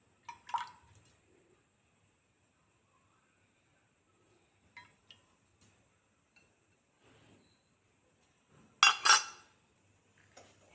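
A spoon clinks and scrapes against a pot a few times while skimming liquid for palm jaggery halwa, with quiet pauses between, ending in a louder cluster of metallic clinks.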